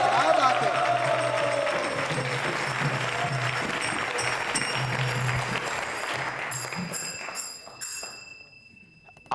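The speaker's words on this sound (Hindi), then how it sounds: "तालियां जोरों से बजाइए आपके सम्मान में" Audience at a Hare Krishna Mission quiz show on Sanatan Dharma bursts into loud, sustained applause that fades near the end, with a speaker's voice mixed in.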